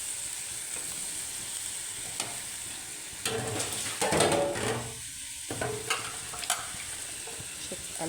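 Fish and potatoes being fried and stirred in a pan at home, a continuous close sizzle broken by louder spoon scrapes and knocks in the middle, no voices.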